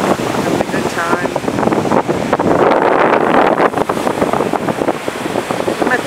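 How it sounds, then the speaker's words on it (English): Strong wind buffeting the microphone at Panama City Beach, Florida, with surf rolling in underneath, a loud, steady roar throughout. "I'm at the beach"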